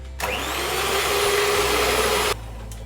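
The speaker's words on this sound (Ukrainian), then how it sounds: "мені потрібно збити білки з цукром. Я даю і починаю збивати." Electric mixer whipping egg whites with sugar for an apple pie: a steady, close, high whirring drone that runs for about two seconds, starts and stops abruptly, and plays alone with no talk.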